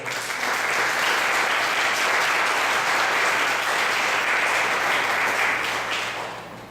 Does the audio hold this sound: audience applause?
yes